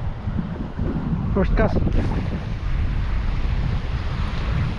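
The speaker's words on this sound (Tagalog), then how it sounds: "malakas ang hangin" Strong wind on a shoreline roars against the microphone in a constant low buffeting, while a voice speaks briefly near the start.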